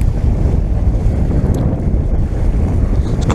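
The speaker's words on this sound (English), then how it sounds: "It's flying very stiffly to the starboard side. That means it's a north wind." A strong north wind roars over a boat at sea, buffeting the microphone in a loud, steady, unbroken rush. Waves and the boat's movement blend into the noise, with no voices.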